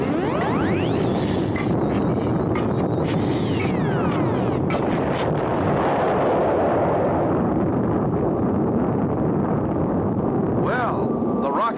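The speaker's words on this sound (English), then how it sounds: "Rocket got off, but will it really fly?" A cartoon rocket launches with a loud, sustained roaring rumble and whooshing noise throughout, set under a music score with descending tones.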